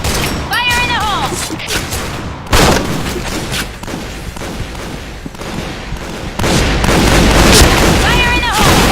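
Grenade blasts and gunfire from the shooter game Point Blank, shotgun mode on the Burning Hall map, with a loud burst of booms and rattling shots that swells near the end, under game announcer voices.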